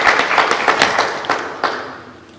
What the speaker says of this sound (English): So let us give applause.